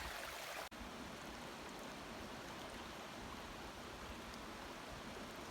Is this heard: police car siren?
no